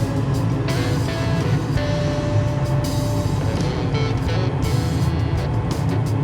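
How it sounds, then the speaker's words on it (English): An HVAC unit's blower motor, on a service call for smoke in a store, runs as a steady low rumbling hum with a faint tonal whine, constant and fairly close, with no talking. "Waiting on the blower motor."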